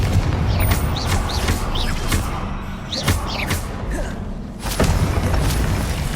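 Confringo spell blasts in Hogwarts Legacy, a string of loud booming impacts with sharp cracks over a dense, continuous game soundscape.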